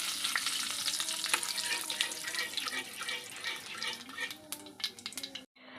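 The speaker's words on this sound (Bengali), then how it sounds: "সরষের তেল গরম হয়ে গেছে আমি প্রথমে দিয়ে দিলাম কালো জিরে" Black cumin seeds drop into hot mustard oil in a wok and fry with a busy, crackling sizzle, close and steady, with scattered clinks before it cuts off abruptly near the end.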